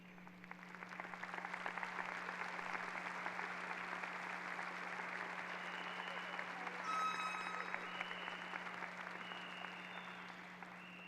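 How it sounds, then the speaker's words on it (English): An audience applauds at a 2022 high school graduation ceremony, steady clapping spread across a large room that swells slightly midway, with a low electrical hum beneath and a faint voice at times. "Will the students involved in these programs please stand for our applause?"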